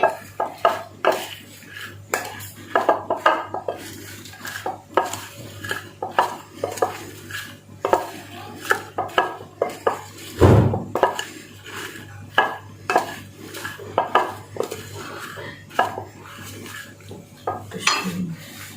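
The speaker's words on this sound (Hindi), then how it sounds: "हम अच्छी तरह इनको मिक्स कर देंगे" Spoon clinking and scraping against a bowl while green chilli pickle is mixed with kalonji seeds, a steady run of close metallic taps and stirs with one louder clatter midway, no talking.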